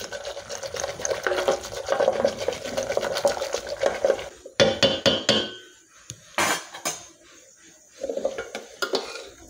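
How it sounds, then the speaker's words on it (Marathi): Soft cooked dal is whisked with a wooden ravi churner, giving a rapid, busy swishing and clatter for several seconds, then a few separate knocks and scrapes against the pot. "थोडंसं रवीने आपण घोटून घेणार आहोत।"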